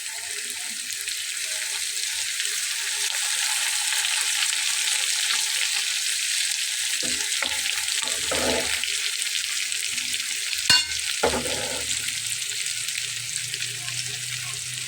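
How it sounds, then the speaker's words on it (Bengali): Hilsa fish frying in a pan with ground spice paste, a constant loud sizzle lasting throughout, with brief clatters of utensils near the end. "দেখুন আমার মাছ ভাজা হচ্ছে কিন্তু মশলাটা কিন্তু পুড়ে যায়নি।"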